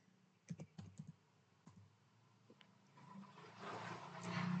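Keystrokes on a computer keyboard while a command is typed during a network VLAN and trunking lab, a quick cluster of clicks followed by a sparse tap or two, then a rising steady hum of background noise.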